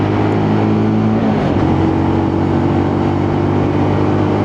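A Lexmoto LXR SE motorcycle with a six-speed gearbox accelerates along a dual carriageway, its engine droning steadily with a pitch drop at a gear change, heard close under constant wind rush.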